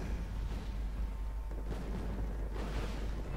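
Mortar fire in the video game Wargame: Red Dragon, a steady rumbling battle din with a few soft, muffled booms rising out of the low background, no voices.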